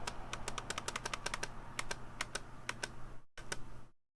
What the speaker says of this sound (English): If there was no keycaps, this would just rattle by itself.